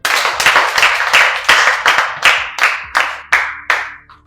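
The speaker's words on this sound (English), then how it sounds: "Clap for him." A classroom of students claps in unison for a classmate, about a dozen sharp, rhythmic group claps at a steady beat, each crack loud and close, slowing slightly toward the end.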